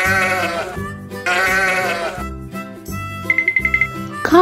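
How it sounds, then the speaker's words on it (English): Sheep bleat in two long wavering cries, loud and close, followed by a cheerful children's tune with a short ringing chime. "Sheep."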